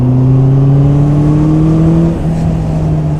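A 2021 Honda CB650R motorcycle on a race track, its engine droning loudly with a steady high tone that shifts slightly in pitch as it holds revs, close and continuous with no talk.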